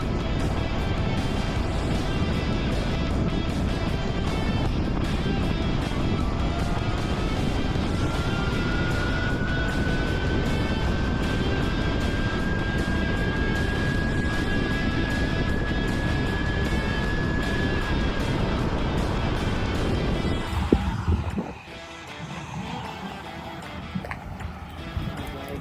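Surron electric dirt bike held at full throttle on a top speed run, a steady loud rush of wind and motor whine with a slowly rising tone, cutting out abruptly near the end into quieter rumble.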